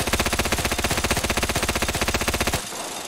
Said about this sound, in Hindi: भाई फ़िलहाल मेरे को जो गन भेजी है वो गन ये वाली है, मिनी गन, और इसे थोड़ा सा मैं टेस्ट कर लेता हूँ